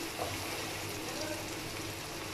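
Spices roasting (bhunai) in a pan for chicken achari biryani, giving a steady, continuous sizzle and frying hiss that holds evenly throughout.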